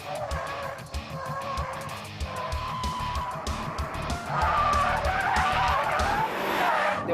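A Mitsubishi Lancer Evolution with a 280-horsepower engine is driven hard, the revving engine pulling under rising road and tire noise that swells louder in the last few seconds.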